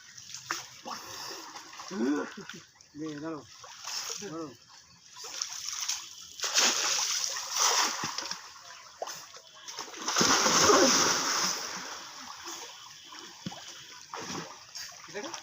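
A fishing net is thrown into a pond and hauled back through the water, giving repeated loud splashes, sloshing and trickling in bursts. People talk over the water noise throughout.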